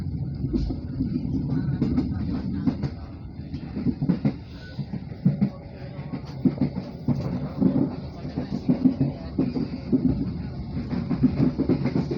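The KA Dharmawangsa passenger train runs on the rails as it enters Keramat station on the Pasar Senen–Bekasi line, a steady rumble heard from inside with a continuous rhythmic clatter of wheels, and some faint talk underneath.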